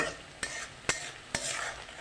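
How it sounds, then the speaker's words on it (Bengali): A spoon scrapes three times through onions in a pan, with soft, quiet frying sizzle between the strokes, during preparation of a beef and potato curry. "প্রথমে আমি পেঁয়াজ ভেজে নিচ্ছি"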